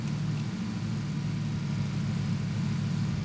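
Nearby car in PUBG: a steady, low engine hum droning continuously at moderate volume, with no clear revving or change in pitch.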